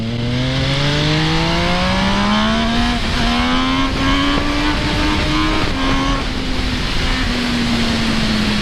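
A supermoto motorcycle engine revs up continuously and loud, its pitch climbing steadily through a long acceleration with brief dips at gear changes, close and alone with no talk.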